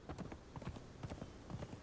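Horse hooves clip-clop across a bridge in the video game Conan Exiles, a steady, quiet rhythm of about a dozen soft footfalls in quick succession, heard alone.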